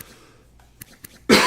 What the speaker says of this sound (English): Sorry about coughing in the mic.